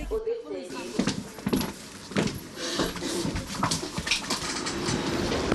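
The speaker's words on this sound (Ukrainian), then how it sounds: "Потяг Одеса-Краматорськ курсує регулярно." Odesa–Kramatorsk passenger train running on rails in Ukraine, a steady rumbling rattle with repeated rhythmic clicks and clunks throughout, fairly close and continuous, with no talk over it.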